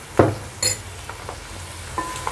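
Onions frying in oil in a pot for mutton curry: a soft, steady sizzle with a few sharp clinks of a spoon stirring against the pan, close by.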